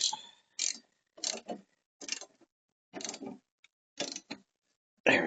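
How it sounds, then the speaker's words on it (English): Torque wrench ratcheting on the blade bolt of a Honda HR217 lawn mower, a run of short separate clicking bursts with brief gaps between, close and fairly quiet, with no talk. "Gonna tighten it a little bit, and then use my torque wrench on it for 40 pounds."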